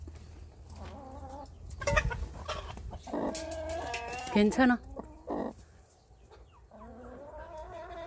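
A mother hen, a green-egg-laying breed, clucks and vocalizes close by in a few short bursts. A person talks softly to her in between.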